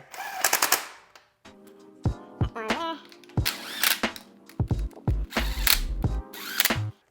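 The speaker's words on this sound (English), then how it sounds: "what I'm going to do right now is just drive these home just a little bit, just to get them on here" Bolts are run in during final assembly of a Toyota FZJ80 Land Cruiser engine, with loud bursts of a power driver or rattling impact tool in short, repeated bursts and brief pauses between them, close to the microphone.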